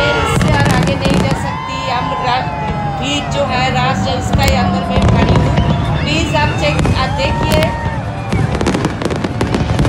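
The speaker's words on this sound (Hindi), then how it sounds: "अभी मैं आपको फायरवर्क्स दिखाती है।" A New Year 2020 fireworks display in Abu Dhabi booms and crackles continuously and loudly over a large cheering crowd. Whistling bursts rise above the roar, and nearby talk mixes into the din.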